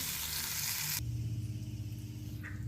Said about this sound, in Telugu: ఆనియన్స్ అయితే బాగా ఫ్రై అయిపోయాయి